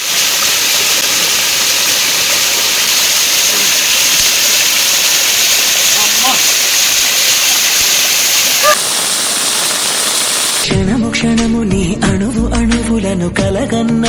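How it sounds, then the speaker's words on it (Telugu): A close view of a roadside waterfall near Lonavala in heavy rain gives a loud, continuous rush of water for most of the stretch. It gives way near the end to a different, busier passage of sound. "Close water falls close shot."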